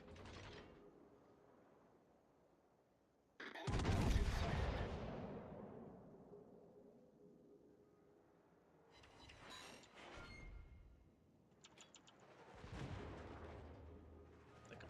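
Battleship main guns firing in World of Warships on a German battleship: after a quiet stretch comes a loud booming salvo with a long rumbling tail, followed by two more distant-sounding gun blasts and mechanical turret clatter.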